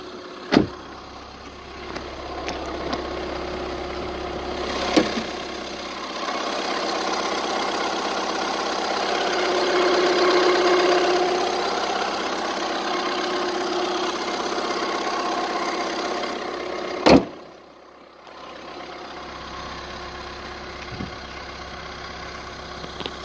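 A 2010 Skoda Fabia Estate 1.6 TDI common-rail diesel idling with the bonnet open, a steady low rumble close by, framed by a few sharp clicks and a loud clunk near the end.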